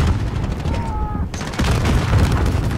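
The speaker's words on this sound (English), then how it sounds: "Right, I'll blast them. Kaboom! RPG-7." An RPG-7 rocket explosion in a first-person shooter match on the Shipment map, a loud close boom amid a dense wash of gunfire and game noise lasting the whole moment.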